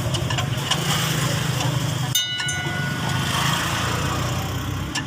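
Tata 2518 tipper truck diesel engine being cranked during electric fuel pump and injector repair, a close, steady rapid chugging drone that briefly falters midway and then carries on.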